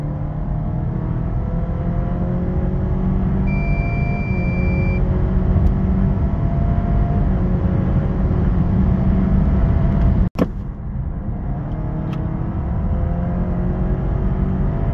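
A Honda ZR-V 2.0 i-MMD hybrid accelerates hard on an open road to overtake, its engine drone rising in stepped, simulated gear changes under constant loud road and tyre roar, with a sharp knock near the end.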